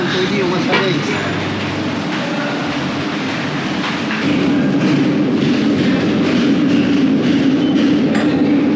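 A subway train rumbles and rattles loudly through an underground station, with steady roaring noise and occasional clanks.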